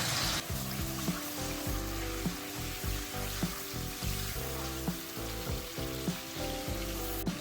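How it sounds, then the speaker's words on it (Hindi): Garlic-ginger paste tinted with turmeric fries in a pan with a soft continuous sizzle, while a spoon stirs and scrapes in a loose rhythm throughout; no voices. "लहसुन अदरक भुन चुका हुआ है"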